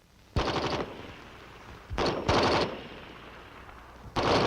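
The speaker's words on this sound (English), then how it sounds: "By turning the selector to full automatic, fire is continuous as long as the trigger is held back and there are rounds in the magazine." An M14 rifle fires on full automatic in three loud, close bursts of rapid shots, each cutting off sharply, with short silent gaps between them.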